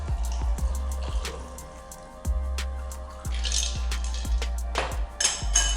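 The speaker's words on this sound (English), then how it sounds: "You're just gonna lock your strainer in here and then pour it into your rocks glass." A cocktail trickles and drips through a strainer into a rocks glass with light clinks, a thin steady pour punctuated by small splashes and a bright rattle near the end.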